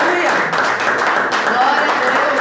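A church congregation at a worship service applauds with a continuous wash of clapping throughout, mixed with voices.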